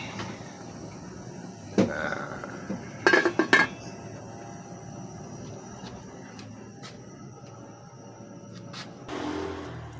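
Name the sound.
covering the pot of fish tinola with its lid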